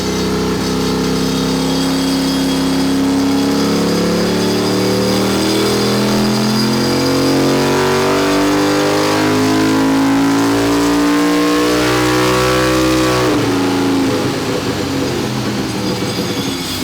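A turbocharged 670cc Harbor Freight engine in a drag rail, burning nitro methanol, revs hard on a dyno with a loud rising engine tone that climbs steadily, then cuts off abruptly near the end.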